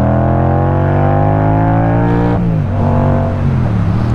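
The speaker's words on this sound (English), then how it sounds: "As I rev the bike up," Yamaha MT-07 motorcycle engine revved up hard while stationary, a loud steady climbing roar that peaks then drops back and rises again, close and alone with no talk.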